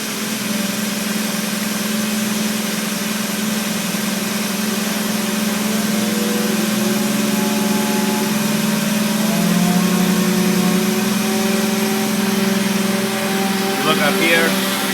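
A V2010 hydraulic vane pump runs steadily on a test bench during a pump test, giving a continuous droning hum with mechanical tones, while a person speaks over it.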